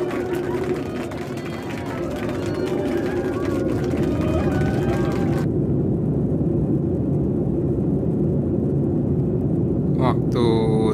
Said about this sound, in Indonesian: Waktu saat akan take off ini, mesin jet pesawat berbunyi sangat keras, menderu dengan sangat keras.